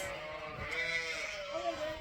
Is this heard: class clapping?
no